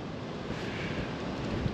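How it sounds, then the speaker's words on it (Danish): Strong wind roars steadily in below-freezing winter frost at a hunting tower in snow, a broad dense rushing noise buffeting the microphone with no let-up. "Blæser af helvede til"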